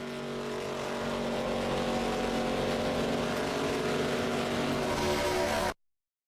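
ARCA race cars roar around Talladega superspeedway in a loud, continuous engine drone that holds steady, then cuts off abruptly near the end.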